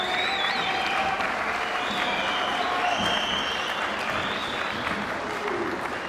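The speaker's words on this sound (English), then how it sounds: "A big round of applause for both fighters." Sustained audience applause fills the arena after an MMA world title bout between England's Mark Wilson and Denmark's Kim Hovgaard, steady dense clapping with crowd noise throughout, loud and continuous.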